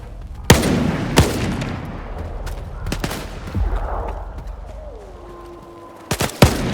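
Gunfire in the video game S.T.A.L.K.E.R. 2: Heart of Chornobyl, heard as several loud, sharp separate shots spaced over a few seconds, with a quieter stretch in between and a closing pair of close reports.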